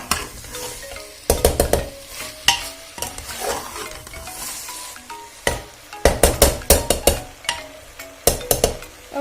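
Rice and spices stirred and roasted in a pan for khichdi pulao, with repeated loud scraping strokes of a spoon against the metal over a steady sizzle, close and clear without talk.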